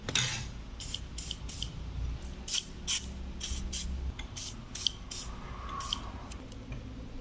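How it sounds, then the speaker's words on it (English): Repeated short bursts of aerosol lubricant spray onto bicycle bolts, about a dozen quick puffs in an uneven rhythm, close by over a low background rumble. "Spray everything so that it will be soaked"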